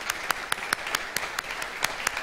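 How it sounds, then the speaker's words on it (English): A church congregation claps in a steady rhythmic beat, a string of evenly spaced claps heard fairly faintly over a low room background. "Could we clap for him while he goes in a hurry?"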